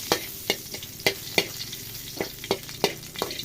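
Garlic frying in a pan with a spatula striking and scraping the metal in steady repeated strokes over a light sizzle, close and fairly loud.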